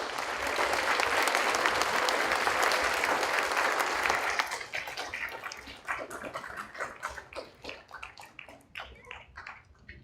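Dense audience applause at a fifth-grade elementary school awards ceremony, sustained and loud for about four seconds, then thinning into scattered, fading claps.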